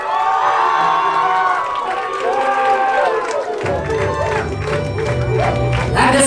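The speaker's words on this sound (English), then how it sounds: "And let's give a big round of applause to my friend and yours." Wedding guests applaud and cheer at a reception as couples are introduced, a loud crowd roar of clapping, whoops and shouting voices, with a heavy low rumble joining halfway through.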